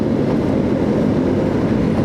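Steady low rumble of an MRT train rolling through a station in Quezon City, with continuous rail and wheel noise filling the space, loud and close, no voices.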